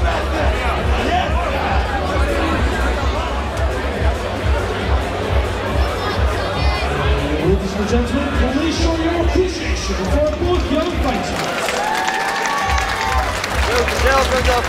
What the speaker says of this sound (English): Well deserved round of applause for two awesome boys.